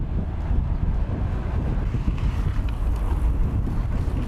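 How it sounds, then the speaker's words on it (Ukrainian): Steady wind roar buffets a microphone while cycling from Myrhorod toward Poltava, a continuous low rumble without a break and no voices. "І вітерець в Харю"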